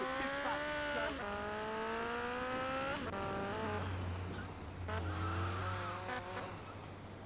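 A car engine in the GTA Liberty City Stories video game, revving loudly and continuously with repeated rising and falling pitch sweeps as the car accelerates and shifts, with tire noise underneath and no talk.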